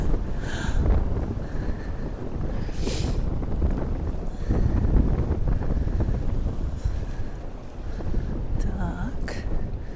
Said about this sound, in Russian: просто ветер с ног сшибает, страшно